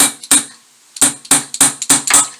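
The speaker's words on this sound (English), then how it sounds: "I got a little thing like a hammer." A small hammer-like tool strikes a root beer soda can to punch holes for a penny can stove: a single knock, a pause, then five sharp metallic taps in a fairly steady rhythm, close and loud.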